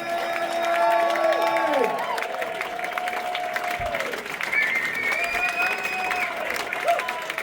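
A nightclub crowd gives a standing ovation to a legendary singer, loud applause mixed with cheering, whoops and sustained sung or shouted voices rising and falling over dense clapping throughout.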